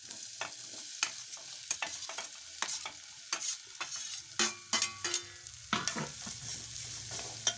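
Bitter gourd and onion stirred in hot oil in a pan, a soft continuous sizzle under repeated scraping strokes of the spoon, close and moderately quiet with no talking.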